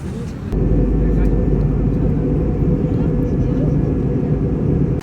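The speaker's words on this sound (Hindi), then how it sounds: "देखते हैं कब उड़ान भरती है अपनी फ़्लाइट।" Airliner engines roar steadily at close range inside the cabin on a passenger flight bound for Dehradun, a loud continuous rumble that rises sharply after half a second and holds.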